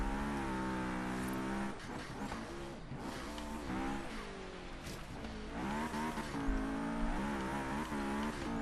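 A Honda race car engine revs hard on a snowy dirt hill-climb course in Forza Horizon 3. The engine drones loud and close, climbing and dropping in pitch through gear changes. Bursts of tire noise come in as the car slides, and there is no talk.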